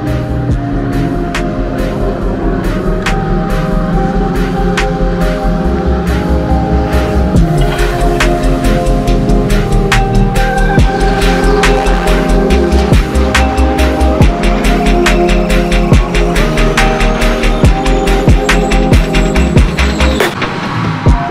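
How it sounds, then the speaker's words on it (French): GT3 race cars lapping the Paul Ricard circuit in the French GT championship, engines roaring loudly and continuously with repeated gear-shift cracks and revs as cars pass close by near the chicane. "je crois que c'est les GT3 qui tournent"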